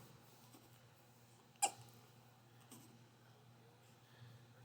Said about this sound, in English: Now he's got the hiccups.